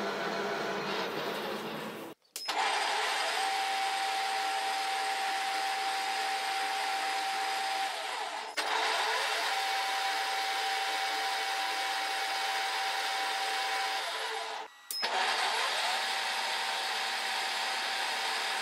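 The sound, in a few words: lathe turning a cone on a threaded part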